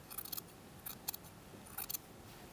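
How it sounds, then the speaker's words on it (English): Scissors snip through the seam lining of a jacket being graded, with quiet, close, crisp cuts in short clusters of two or three. "So I'm going to cut the lining one and cut it in half."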